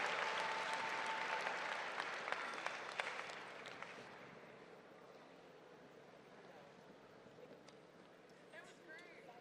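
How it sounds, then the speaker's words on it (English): Applause for a high school class of 2021 at a graduation ceremony, loud at first with sharp claps, then fading over several seconds into quieter room noise. "Let's give them a round of applause."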